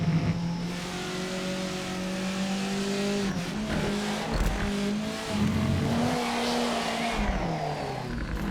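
A race car in a driving video game brakes hard and locks its rear wheels, the engine tone dropping and wavering through downshifts with tire squeal and a brief rev, all loud and continuous.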